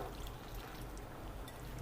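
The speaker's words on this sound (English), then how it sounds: "Now let's add some water" Water poured into a pan of yam pieces coated with salt, chili powder and masala spices, a steady continuous trickling pour lasting the whole moment, close and fairly quiet.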